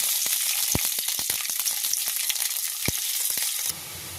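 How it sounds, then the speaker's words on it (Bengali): Chopped onion sizzles in hot oil in a wok, a steady close frying hiss with scattered crackles and pops that drops off sharply near the end. "কড়াইতে দিয়ে দিয়েছি তেল। এবার এর মধ্যে পেঁয়াজ কুচিটা দিয়ে দেবো।"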